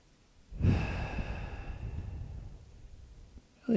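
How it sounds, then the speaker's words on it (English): One long, deep, slow breath during a yoga stretch sounds close and clear, a soft rushing exhale that fades gradually before the next breath starts, with no talking over it. "So we'll take a few more breaths here."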